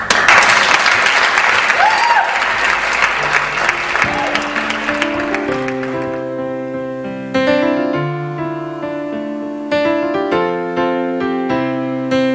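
Audience applause at a gathering in Jerusalem marking the Jewish birthday of the trees, dense clapping that fades after a few seconds into sustained musical tones that carry through the rest.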